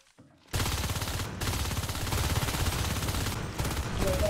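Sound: gunfire in Natural Selection 2 video game

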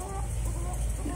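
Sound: Cochin bantam chickens clucking

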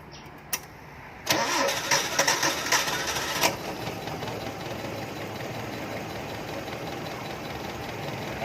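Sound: car engine starting on a weak battery

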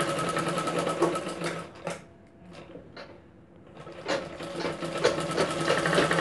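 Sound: sewing machine stitching a cup blouse

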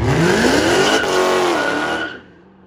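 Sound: loud car engine revving at a car meet

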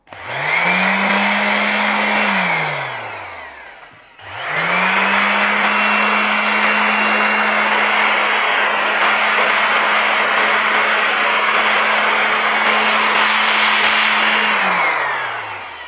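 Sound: orbital sander running

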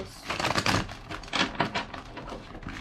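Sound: shuffling tarot cards

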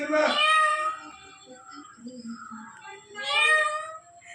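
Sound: cat meowing

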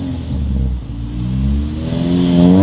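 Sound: racecar engine revving

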